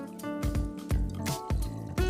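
Cooled water pours and splashes into a container of eggs in several short bursts, close and fairly quiet, with gurgling and dripping between pours.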